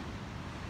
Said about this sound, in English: I'm loving these waves.